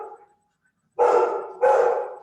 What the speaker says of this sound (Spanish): era mi perro